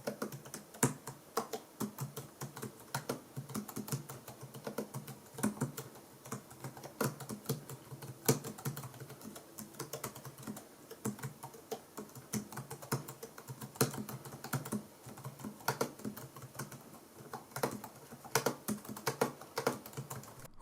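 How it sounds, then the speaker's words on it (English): Fingers type steadily on a ProtoArc EK01 split keyboard with scissor switches, giving soft, fast, muted clicks in an irregular stream, close and alone with no talking. "I'm going to give you a little typing test to hear what it sounds like."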